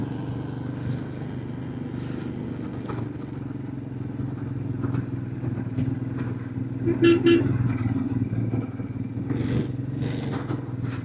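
Vehicle engines drone steadily as traffic passes nearby on a mountain road in Uttarakhand, with a brief horn toot partway through.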